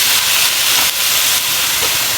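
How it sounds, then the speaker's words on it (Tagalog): Fish sauce hits a hot pan while cooking lomi, producing a loud, continuous steamy hiss that holds steady with only slight dips, no talking alongside. "maglalagay na po tayo ng fish sauce"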